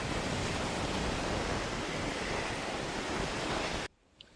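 Waves wash onto a beach beside a Sea Ray 240 boat as a steady, loud broadband rush with some wind, cutting off abruptly near the end to near silence.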